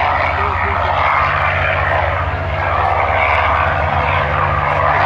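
A B-17 Flying Fortress bomber flies overhead at an airshow, its piston engines and propellers giving a loud, steady, continuous drone that holds for the whole stretch with slight swells. Some talk sits faintly under the engines.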